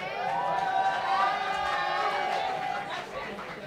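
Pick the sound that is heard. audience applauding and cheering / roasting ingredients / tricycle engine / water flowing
audience applauding and cheering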